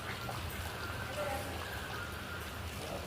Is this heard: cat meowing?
no